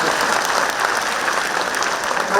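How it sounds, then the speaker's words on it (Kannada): An audience at the Bengaluru City University inauguration ceremony claps, a dense, steady burst of applause filling the hall for a couple of seconds without letup. "ಬರಲಿ ಚಪ್ಪಾಳೆ."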